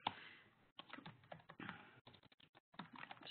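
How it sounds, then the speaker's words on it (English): Quick bursts of keys clattering on a computer keyboard, close by, with short pauses between runs of typing. "Just have to deal with me typing here."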